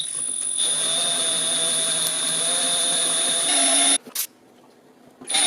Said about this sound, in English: I'm going to go ahead and go back to my 11/64 bit here and just start drilling this